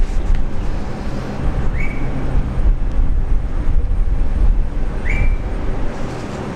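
A departing airliner at Brisbane airport, heard as a loud, continuous engine rumble and roar with a deep low end, plus a couple of brief higher chirps drifting through the steady noise.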